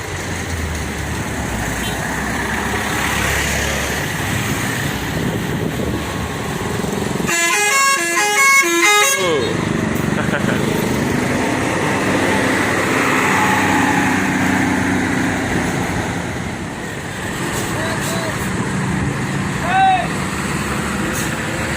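A Harapan Jaya bus leaving a crowded terminal sounds one loud, sustained horn blast of about two seconds. Engine rumble and people talking continue before and after it.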